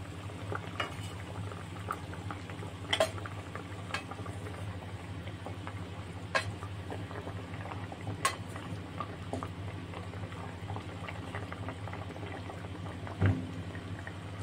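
A pot of hilsa fish curry with raw mango bubbles steadily at a low simmer, with occasional sharper clinks and splashes over the continuous boil.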